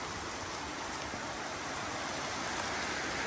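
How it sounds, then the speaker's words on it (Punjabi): Heavy rain pouring down outdoors during a downpour, a loud, continuous hiss of falling water and splashing with no break, steady and full throughout, with no voices. "ਤੁਸੀਂ ਦੇਖੋ ਐਨ ਪੂਰੀ ਬਰਸਾਤ ਪੈ ਰਹੀ ਆ"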